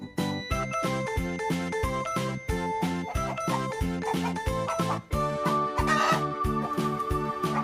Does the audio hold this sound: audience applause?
no